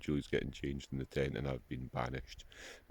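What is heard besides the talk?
No everyday noise stands out behind the speech.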